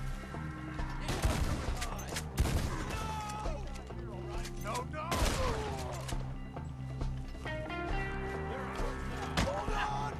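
Repeated gunfire bursts and single shots from a Red Dead Redemption 2 shootout, loud and close, set over a steady music score with voices talking during the action.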